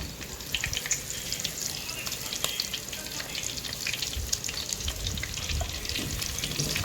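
Cumin, mustard seeds and curry leaves frying in about 150 grams of hot oil, a steady close crackling sizzle with scattered pops throughout, no voices.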